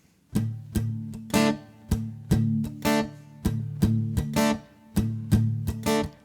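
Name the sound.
slow guitar strumming pattern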